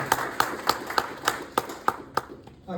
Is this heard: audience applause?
yes